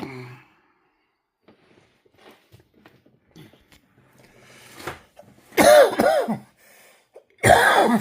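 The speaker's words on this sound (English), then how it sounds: "Excuse me, with my cough again." Two loud, harsh coughs close by, a second or so apart, after faint rustling and a quiet breathy sigh.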